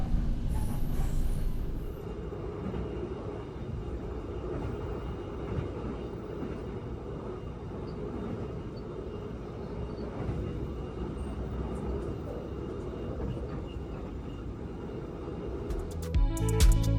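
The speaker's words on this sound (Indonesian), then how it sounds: "kereta api Kertanegara di kelas ekonomi menggunakan armada kereta K316" Kertanegara economy-class passenger train with K316 coaches rolls along, a steady low rumble of wheels and carriage heard from inside, continuous and moderately quiet, with a brief rattle near the end.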